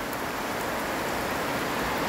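Heavy rain pours down steadily on a garden and drums on a roof, a dense, even hiss that fills the whole moment with no voices.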